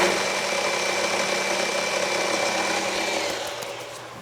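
An electric coffee grinder grinding roasted coffee beans, a steady loud whirring motor drone that runs continuously and fades slightly near the end.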